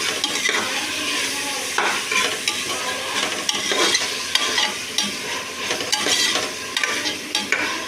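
Onions and tomatoes sautéing with salt in a pan, a steady close sizzle and hiss with intermittent stirring scrapes throughout, no talking.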